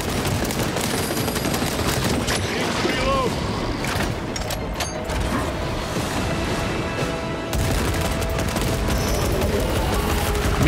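Rapid, continuous gunfire and fusillades fill the Warhammer 40K Space Marine II battle, dense overlapping shots and bursts with booms, loud and unbroken, while a player talks over the action.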